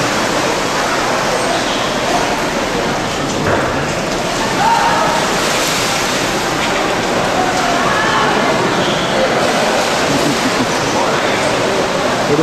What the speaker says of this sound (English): Some waves seem to be bigger than others.